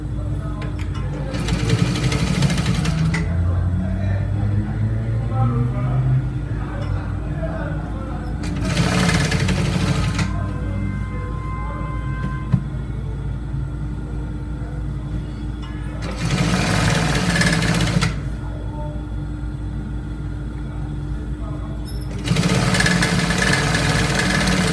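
A sewing machine stitches a folded trouser edge in four loud bursts of whirring, each a few seconds long and separated by quieter gaps with soft background sound.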